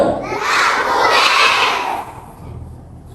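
Primary schoolchildren at SK Labu Besar shout a unity cheer together, a loud crowd yell that swells for about two seconds and then quickly tails off.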